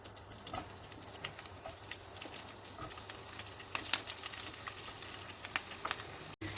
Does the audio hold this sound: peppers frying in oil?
yes